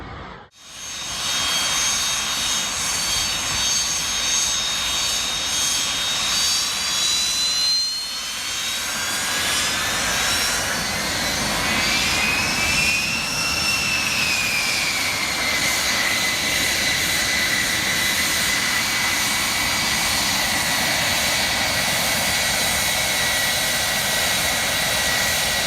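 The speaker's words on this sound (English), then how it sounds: "The Dragonfly, a widely recognized formidable fighter jet with a charming name." Dragonfly fighter jet engine roaring loud and continuous, with a sustained high whine that sweeps upward in pitch over a dense broadband rumble.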